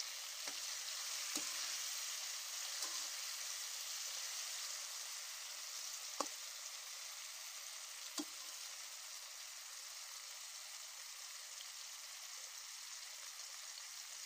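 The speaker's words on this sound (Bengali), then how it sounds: "আমি এবার এটিকে 4-5 মিনিটের মতো ভাজি করে নেব।" Green beans (borboti) frying in a pan give a steady, broad sizzle throughout, with a few brief stirring scrapes early on and near the middle; no voices.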